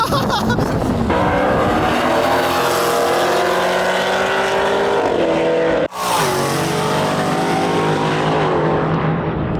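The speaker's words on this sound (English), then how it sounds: "Four-wheel burnout" A car does a four-wheel burnout, its engine roaring loud and sustained at high revs with a continuous harsh tire squeal, briefly cutting out for a moment before surging again.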